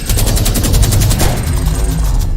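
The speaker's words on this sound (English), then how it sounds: "if you hit it with some bullets, then it retaliates like this" Rapid loud gunfire bursts pound at the cube in Fortnite, a dense rattling volley running through the whole moment close up.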